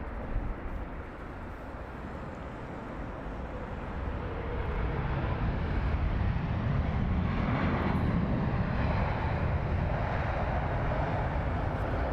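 A plane at London Heathrow Airport gives a steady broadband engine roar that swells louder about four seconds in and holds there, with no talking.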